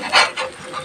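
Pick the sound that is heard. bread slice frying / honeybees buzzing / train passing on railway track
bread slice frying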